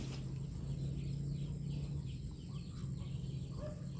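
Chickens clucking softly at a distance over a low background hum, scattered calls throughout.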